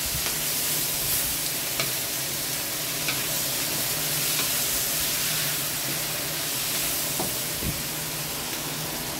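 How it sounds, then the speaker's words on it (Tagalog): Tomatoes sautéing in a pan for pinakbet, a dense continuous sizzle and hiss with occasional faint stirring scrapes. "Tapos lagay na po natin yung kamatis. Igisa po natin mabuti."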